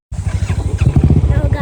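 A motorcycle engine idling and pulsing in a steady rapid rhythm, heard close up and loud throughout the short stretch as riders set off.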